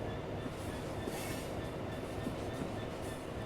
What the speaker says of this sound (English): There's another Class 66 taking off